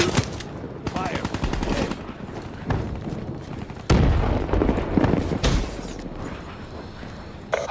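Loud rapid gunfire in the video game Black Ops 3 played on PS3, bursts of automatic fire with heavy booms and a sharp blast near the middle, dense and continuous throughout.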